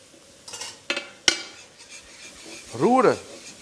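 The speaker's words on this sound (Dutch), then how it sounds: "Met de spatel glad roeren tot er een bal ontstaat." A spatula scrapes and stirs a flour-and-butter roux in a pan over low heat while making pork ragout. There are a few soft, brief scrapes and taps, followed by a slightly louder scraping sweep near the end. No one speaks.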